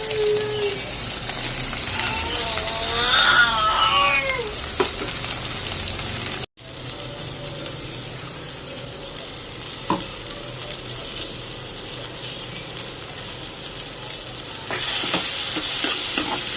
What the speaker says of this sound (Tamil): எண்ணெயிலேயே நல்லா இந்த மசாலாவை வதக்கி விடுங்க.